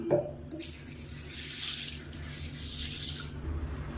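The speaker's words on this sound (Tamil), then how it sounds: "இப்போ நல்லா ஒரு 3-4 தடவை பிசைஞ்சு விட்டு நல்லா கழுவி எடுத்துக்கலாம்." A cup of soaked white sorghum grains is rubbed and washed by hand in water in a kitchen, giving steady close-up sloshing and swishing with brief splashes throughout.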